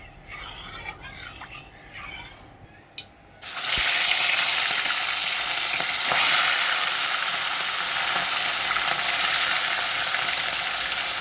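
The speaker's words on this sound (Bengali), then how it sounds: "তেলটা গরম হচ্ছে, তেলটা গরম হয়ে গেছে।" Hot oil in a pan, about to fry katla fish pieces: a few soft clinks, then a sudden loud, steady, close sizzle that holds to the end with no voices.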